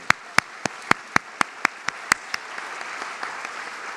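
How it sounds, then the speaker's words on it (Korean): Sharp, evenly spaced claps ring out at a Christmas church service, about ten distinct hits in steady rhythm before fading into softer scattered clapping from the congregation. "우리 박수로 하나님께 영광을 드리겠습니다."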